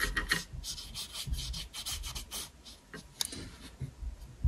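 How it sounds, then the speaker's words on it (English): Paintbrush rubbing leftover paint onto a forest night painting, with a steady, close, dry scrubbing that comes in short strokes and continues throughout. "Just rub it on in, whatever's left on your brush."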